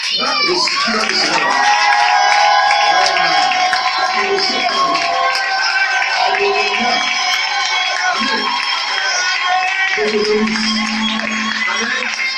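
Church congregation at a prophetic preaching service cheering and shouting in acclamation, a loud continuous crowd roar with raised voices and some clapping throughout.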